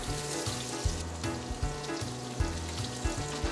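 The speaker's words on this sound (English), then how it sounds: "when you're placing the fish in the skillet, you wanna tilt it forward and lean it away from you" Creole-seasoned redfish fillet sizzles in a hot skillet with butter and oil, a loud, dense frying hiss with bursts of spattering, alone without talk.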